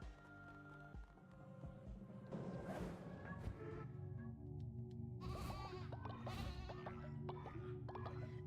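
Lamb bleats sound during a sermon in the Cult of the Lamb video game, as several strained, wavering cries rise over a busy game soundscape with background music, the calls coming in a cluster in the second half.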